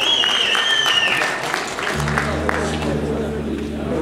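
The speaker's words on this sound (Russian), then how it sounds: "аплодисменты." Concert audience applauding a guest singer at a concert in Moscow: steady crowd clapping throughout, with a voice speaking over it early on and a low sustained musical tone entering halfway.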